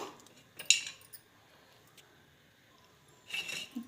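Pistachios and almonds being chopped into small pieces with a knife for gulab jamun: two brief clusters of faint, crisp taps and clicks, separated by near silence, close by.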